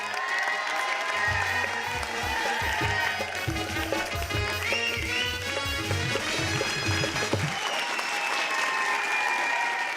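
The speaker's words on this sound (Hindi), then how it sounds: "जोरदार तालियां एक बार" Loud, dense audience applause at a comedy show fills the stretch, with music playing underneath for most of it before the clapping continues alone.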